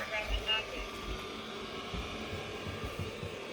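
An affordable Vyzzle robotic vacuum cleaner runs in a room, giving a steady whirring hum with a broad airy hiss throughout, fairly close, with faint low bumps underneath.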